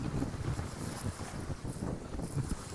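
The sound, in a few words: sailboat moving fast over ocean waves, wind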